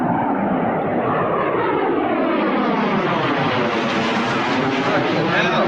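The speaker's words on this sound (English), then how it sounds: "I want the plane to come back." A video game airplane flies low overhead with a loud, continuous engine roar whose pitch sweeps as it passes, filling the whole stretch close by.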